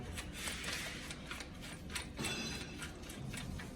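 Bolts on a Yamaha Tenere 700 motorcycle are loosened with a ratchet and backed out, giving a steady run of fast, faint mechanical clicks close to the tool with no talking.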